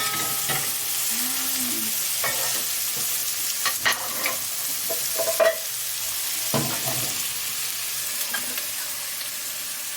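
Chopped bell pepper sizzles in a pan for Colombian-style arroz ranchero, a steady frying hiss broken by repeated spoon scrapes and clacks as it is stirred.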